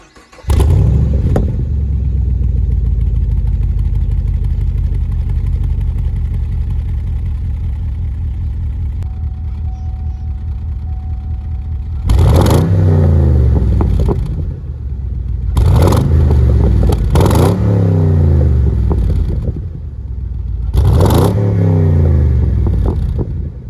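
A 2015 Chevrolet Camaro fitted with Flo Pro Max mufflers, heard close up as a deep, steady idle rumble followed by four sharp revs that climb and fall in quick succession.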